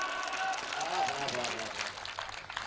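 A live audience applauding in a hall: dense, steady clapping that holds for nearly three seconds and fades slightly toward the end, with a voice talking over it.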